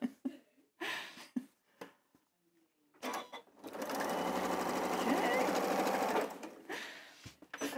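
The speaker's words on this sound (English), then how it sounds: "So I'm sewing everything into rows." Close and loud, a sewing machine runs steadily for about three seconds, joining quilt pieces into rows, after a stretch of speech and before more talk resumes.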